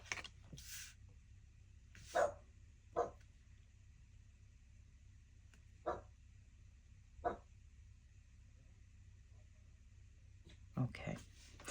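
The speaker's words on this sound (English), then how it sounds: "So we have construction and dog barking." A dog barks in short, spaced single bursts at moderate distance, several times over a steady low construction rumble, with a person talking softly in between.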